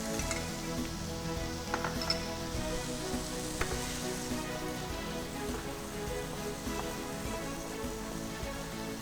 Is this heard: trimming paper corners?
no